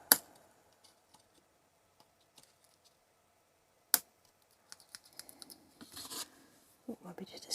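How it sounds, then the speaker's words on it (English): Paper snips clip stray bits of paper in a cardmaking session, with faint scattered ticks, two sharp snaps, and a run of small crisp cuts and rustles toward the end, close up and quiet. "we can just use our stamping snips, paper snips, just to trim down these little stray pieces"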